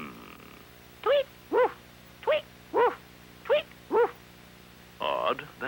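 A cartoon dog from Linus the Lionhearted, voiced by a performer, gives about six short, evenly spaced woofs followed by a longer yelp, loud and clear over a quiet background.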